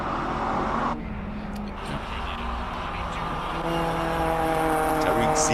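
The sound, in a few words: race car engine climbing the Simola hill climb road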